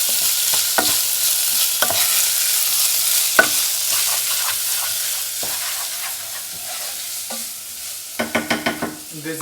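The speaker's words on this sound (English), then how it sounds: "So fry the rice a little bit more. Get it coated." Rice for Brazilian-style rice frying in a pan, with a continuous loud sizzle and a utensil scraping and stirring through it, ending in a few rapid clicks, with no talk.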